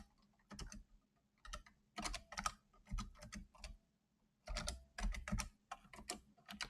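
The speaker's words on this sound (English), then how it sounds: "today there's a lot of like random typing that does stuff" Someone types on a computer keyboard during a programming session, quick bursts of soft key clicks separated by short pauses, close and quiet with no talking.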